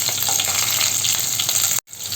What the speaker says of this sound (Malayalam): കടുക് പൊട്ടി വരുന്ന സമയത്ത് ചെറിയ ഉള്ളിയും വേപ്പിലയുമാണ് ചേർത്ത് കൊടുക്കുന്നുണ്ട്